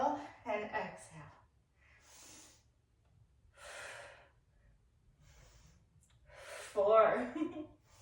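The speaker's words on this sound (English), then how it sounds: "Inhale down, exhale, press up." Close, quiet breathing during a push-up workout: a series of sharp, forceful inhales and exhales with short pauses between, one louder breath near the end.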